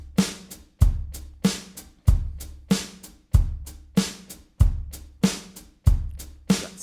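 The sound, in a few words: syncopated drum beat from song isolated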